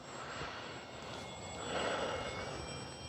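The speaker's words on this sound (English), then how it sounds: "You can always hear that weird hiss when you're flying a battery that's the wrong size in a plane." Steady airy hiss from the electric motor of an FMS T-28 Trojan 800mm RC plane flying on a mismatched battery, a continuous broadband whine with faint high tones, swelling slightly midway and holding at an even moderate level.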